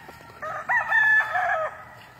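A big rooster, a gamecock on a game-fowl farm, gives one full crow of about a second and a half, loud and close, with no talk over it.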